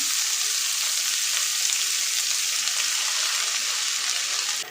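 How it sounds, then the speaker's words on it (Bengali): Red amaranth greens fry in oil with garlic, nigella seeds, dried chilli and radhuni, a loud dense continuous sizzle close up that cuts off abruptly at the end. "কালো জিরে তো দিয়েছি একটুখানি রাঁধুনিও অ্যাড করে দিই আর দেবো রসুন লাল শাকটা দিয়ে দেবো"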